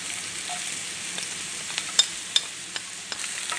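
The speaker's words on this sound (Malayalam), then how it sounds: "നമ്മുടെ എണ്ണ ചൂടായിട്ടുണ്ട്. അതിലേക്ക് ഒരു സവാള ചെറുതായിട്ട് അരിഞ്ഞത്, ഇഞ്ചി, കറിവേപ്പില ഇതൊക്കെ ചേർത്ത് കൊടുക്കാം." Chopped onion, ginger and curry leaves fry in hot oil for fresh cream pasta masala: a soft steady sizzle, close but fairly quiet, with a few light clicks and pops and no talking.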